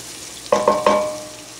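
Cauliflower rice frying in a pan, with a soft sizzle underneath three quick, close metallic scrapes or clinks of stirring in the middle, then a fading hiss.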